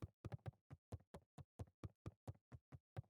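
Knocking at a door in the video game Beacon Pines comes as a quick, even run of about fifteen sharp, close knocks, with no voices over it.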